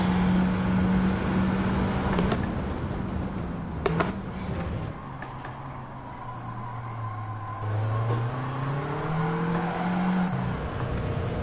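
Race car engine in a racing video game, a steady close drone that sags and climbs in pitch as the throttle comes on, revving up toward the end.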